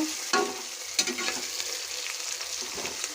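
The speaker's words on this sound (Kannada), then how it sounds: "ನೋಡಿ ನೀಟಾಗಿ ಫ್ರೈ ಆಗ್ತಾಯಿದೆ" Chicken biryani ingredients fry in a pan with a soft, steady sizzle, broken by a few sharp scrapes and taps of a spoon stirring; quiet and close, with no talking.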